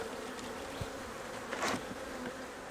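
Honey bees buzzing around an open hive during an inspection, a soft steady drone with a few individual bees passing close, one louder fly-by midway.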